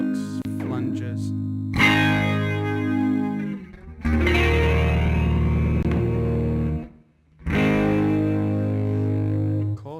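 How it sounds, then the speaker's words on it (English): Electric guitar run through the Deluxe flange effect in Line 6 Helix Native plugin software, sustained chords with a sweeping, swirling modulation and distortion, played in three long phrases separated by short gaps. "Deluxe flanges."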